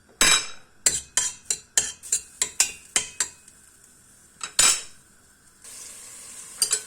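Butter-sautéed finely chopped onion in a pot for chicken soup, with a run of sharp scraping and stirring knocks at a steady rhythm over a faint sizzle, then a pause, one more knock and a brief hiss near the end.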